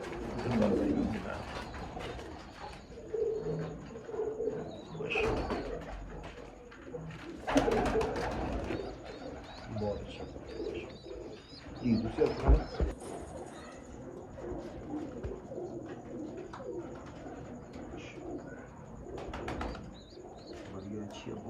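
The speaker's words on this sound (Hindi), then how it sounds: "बहुत ही अच्छे कबूतर ने यार।" Breeder pigeons from Sialkot cooing in a loft, soft repeated coos with scattered mechanical rattles and clicks, people talking nearby throughout.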